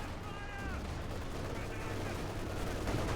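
An MG-34 machine gun crew fires in Company of Heroes 2, with dense rattling gunfire and battle noise running continuously beneath a caster's fast commentary.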